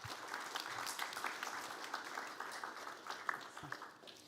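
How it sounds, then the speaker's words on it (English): A conference audience at a global dialogue plenary claps in a sustained round of applause for panelists and a keynote presenter, steady and dense throughout, easing slightly in the final moments. "So join me in a round of applause"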